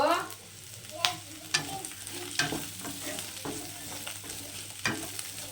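Frying and stirring for chicken sambar in a pan, with a steady sizzle broken by sharp scraping clicks of a spoon against the pan every second or so, close and moderately loud, with no talking.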